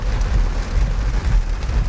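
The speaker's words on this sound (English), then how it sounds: "you can see the hail bouncing off the windshield now" Hail pelting a car windshield during a severe thunderstorm in the Charlotte area, a dense, steady rattle of impacts heard from inside the vehicle, with rumbling low-end noise and no talking.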